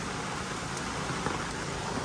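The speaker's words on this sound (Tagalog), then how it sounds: "Inabot na tayo ng malakas na ulan." Heavy rain pours down in a dense, steady hiss with scattered louder drop impacts, filling the whole moment with no pause.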